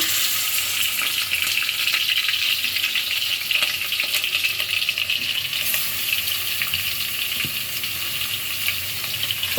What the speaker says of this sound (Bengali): এখন এর মধ্যে মাংসটা আমি দিয়ে দিব